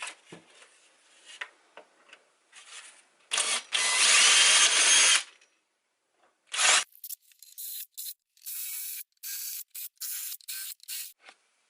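Bursts of a power drill boring into fiberglass for an electric skateboard battery enclosure, a long loud whine in the middle, then a run of short, sharp on-off bursts close by.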